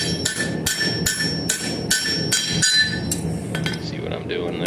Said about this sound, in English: I'm using the hardy hole, and I switched hammers. This is another square-faced hammer that I have